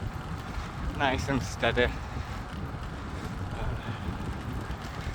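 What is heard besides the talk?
wind blowing into the microphone during a bike ride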